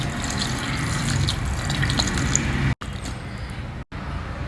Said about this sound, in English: Next, we'll add in this tamarind extract to it.